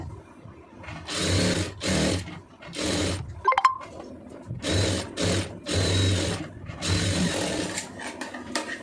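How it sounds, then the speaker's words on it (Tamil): A sewing machine stitches an armhole lining seam in short bursts of rapid mechanical whirring, about six runs separated by brief pauses, with a small metallic clink partway through. "இப்போ நம்ம எங்கே ஜாயின் போட்டுக்கோமோ அதில் அப்படியே தையல் ஓட்டிடுங்க"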